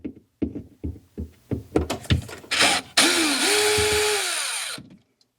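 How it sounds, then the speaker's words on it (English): Power drill unscrewing rusted screws from a Samsung refrigerator panel: a series of short trigger bursts that build into one sustained whirring run before cutting off, loud and close. "unscrew these. Some rusted screws here"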